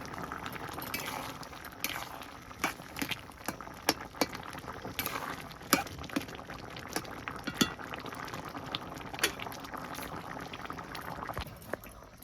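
Raw banana curry being stirred in a pan after cumin powder goes in, a steady bubbling simmer broken by repeated sharp clinks and scrapes of a utensil against the pan, close and continuous with no talk.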